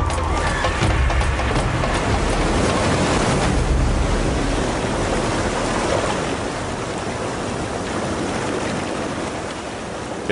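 The Colorado River rushing at the foot of the canyon, a loud, continuous broadband roar of turbulent water with no break, steady and close for the whole stretch.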